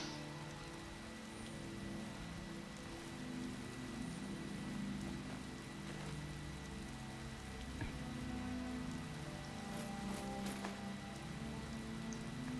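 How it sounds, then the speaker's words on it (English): Steady rain pattering on surfaces in the video game Skyrim, a soft continuous hiss with occasional drips, fairly faint and unbroken throughout. "It's raining, I gotta put that cloak on."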